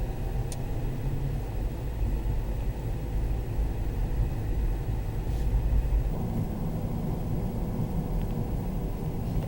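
Steady low interior rumble of a car driving on the road toward Medgar Evers' house, a continuous engine and road drone that holds loud and even throughout, with no voices.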